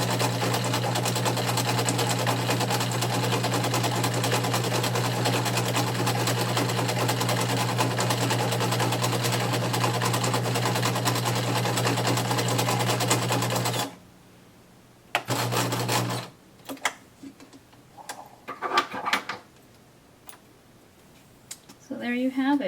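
Sewing machine stitching a faux coverstitch hem on knit fabric, running fast and steady at close range for about fourteen seconds before stopping, followed by a short burst and then quieter handling with a little speech.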